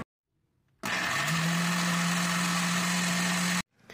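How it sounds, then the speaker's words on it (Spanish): A blender whirs steadily, grinding soaked soybeans with water into soy milk; the motor kicks on abruptly, holds a loud, even hum for about three seconds, then cuts off sharply. "Ahora lo vamos a licuar."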